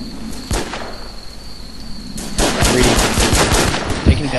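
Gunfire in the video game WarZ, a lone shot then a loud rapid burst of automatic fire with sharp cracks, close and continuous toward the end.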